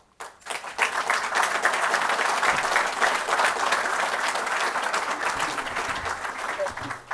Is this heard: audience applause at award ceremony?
yes